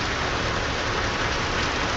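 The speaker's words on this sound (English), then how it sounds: "Rain." Rain falls steadily across the area between St. John's and Bay Roberts, Newfoundland, a continuous even hiss of drops on surfaces, moderately loud and unbroken, with no voices.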